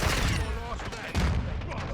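Dense, rapid M4 rifle fire in Modern Warfare rattles continuously over busy game noise, with a voice talking underneath.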